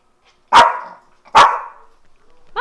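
A dog barks twice at the front door, each bark loud and close with a short tail of echo, followed by a brief high yip at the end; no one talks.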